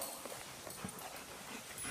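A dog whimpers faintly in short, soft whines and yips against a noisy background.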